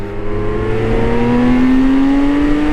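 BMW K 1600 GTL touring motorcycle with a rare six-cylinder engine, running steadily and loud at close range, its hum rising slowly in pitch as it accelerates, with no voices.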